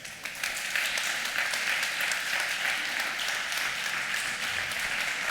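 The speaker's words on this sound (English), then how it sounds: "Clap if you would buy Airbnb." An audience claps in a show of hands to vote for Airbnb at a business conference talk, a dense, steady roll of applause that holds evenly throughout at a fair distance.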